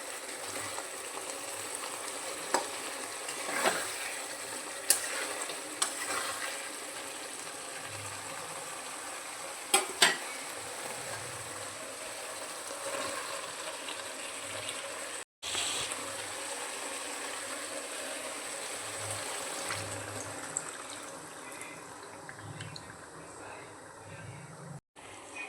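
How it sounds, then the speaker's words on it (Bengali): Egg curry simmering in a pot as fried eggs and water go in, a low steady bubbling hiss with a few sharp clinks of a utensil against the pan, close and fairly quiet throughout. "এরপর এর মধ্যে দিয়ে দেব ভেজে রাখা ডিমগুলো। আর ঠিক যতটা ঝোল প্রয়োজন ততটুকুই জল দেব।"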